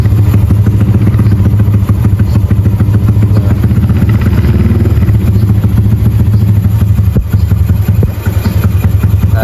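A Yamaha Mio M3 scooter engine runs close by at a steady idle, loud and clattery, with a brief dip near the end and no talking.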